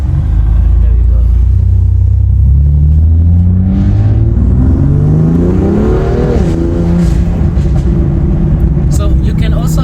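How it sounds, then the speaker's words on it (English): BMW M2 Competition engine and exhaust, loud close revving that climbs and falls through the gears, with deep rumble and pops and burbles as the throttle lifts off. "bangs, or what you call crackles and burbles on downshifts and when you lift off, which sounds really nice."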